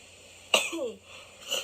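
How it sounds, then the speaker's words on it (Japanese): A single sharp sneeze bursts out near the mic, followed by a brief breathy tail and a softer second exhale, with no talk in between. "かわいいと思うくしゃみしてや。"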